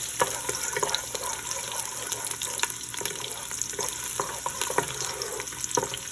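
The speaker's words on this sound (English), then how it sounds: "The oil is hot, so I'm going to add the chopped garlic." Chopped garlic sizzles steadily in hot oil for okra beef stew, a soft, even crackle with scattered pops and faint clicks of stirring, close but fairly quiet.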